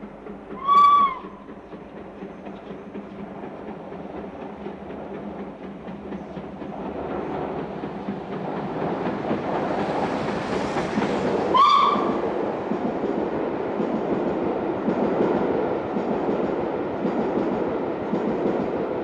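An LNER K4 steam locomotive runs on the rails, its whistle sounding twice, briefly near the start and again around twelve seconds, over a steady rumbling, chuffing run that grows louder and denser as it nears.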